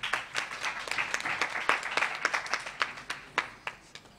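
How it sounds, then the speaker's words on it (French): A modest audience at a student job-placement forum applauds a professor with a loose patter of distinct hand claps. The clapping is moderately quiet, uneven in rhythm and continues for about four seconds. "Veuillez l'applaudir s'il vous plaît."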